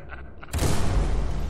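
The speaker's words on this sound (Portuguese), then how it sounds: "Eita, o cara se explodiu." A sudden explosion in the PS3 game Scourge: Outbreak booms after a few faint thumps, followed by a rumbling, noisy aftermath that stays loud to the end.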